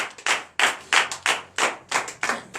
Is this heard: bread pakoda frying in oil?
no